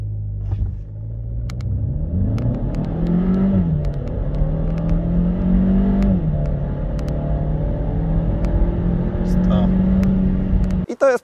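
A Hyundai i30 N-Line with the 1.5 T-GDI 160 hp engine and automatic gearbox accelerates hard: a loud, close engine drone climbs in pitch, drops at each shift, then keeps rising in a steady pull.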